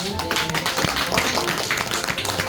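A small group of community reporters at a rural revitalization support center presentation claps together, a brisk, dense patter of many hands at close range that carries steadily from start to finish.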